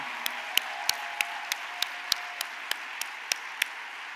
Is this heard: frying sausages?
no